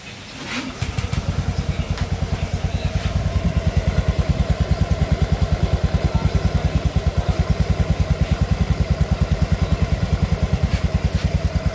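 A Honda Beat FI scooter engine starts after a brief crank and settles into a steady, loud, rapid idle putter, close by, with no talk over it.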